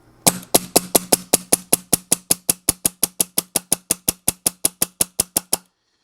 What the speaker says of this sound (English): I'll push the button again so that it will fire with the eyes off. And then I'll shoot it a few times.